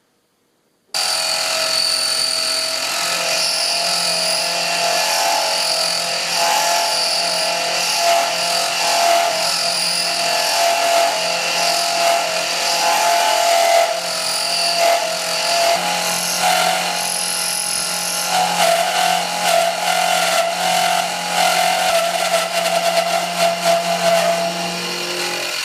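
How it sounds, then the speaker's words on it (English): A part is filed for instrument cluster clearance on a 1976 Mazda RX-5. A loud, continuous abrasive grinding rasp runs steadily for about 25 seconds with slight changes in pressure, close and alone. "Took a little bit of filing and tweaking."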